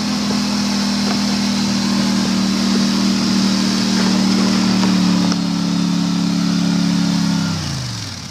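A Polaris 850 snowmobile engine runs at a loud, steady cruise with a strong low drone, close by, then winds down and fades near the end; no talk.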